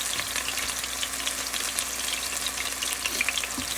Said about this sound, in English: I'm going to sear each piece